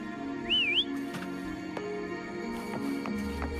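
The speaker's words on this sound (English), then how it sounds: "Try whistling." A short, wavering whistle rises and dips once near the start, standing out over a steady game soundtrack, used to call a companion in the video game Wuthering Waves.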